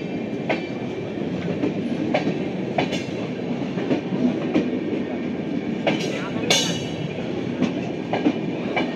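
A diverted Duronto Express runs along the main line, close and loud, its wheels beating a rhythmic clickety-clack as the coaches pass. Sharp metallic clanks recur throughout, and occasional faint voices sit in the background.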